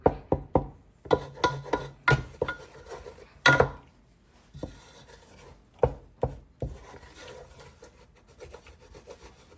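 A roux being stirred in a pot with scraping, clinking strokes against the metal, in uneven bursts and sharper knocks, fairly close and with no talking.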